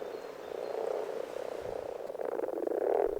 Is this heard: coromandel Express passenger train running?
no